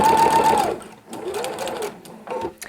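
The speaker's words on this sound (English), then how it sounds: "you're just going to sew down that line" Sewing machine fitted with a walking foot stitching along a paper-piecing line, a steady loud motor whir in two runs with a short pause between and a brief final burst.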